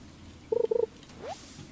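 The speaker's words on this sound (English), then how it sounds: "I love the weird sounds of the frogs." Frogs croaking in the rain in Stardew Valley: two quick rhythmic bursts of close, clear croaks, followed by a short rising chirp over a soft background hiss.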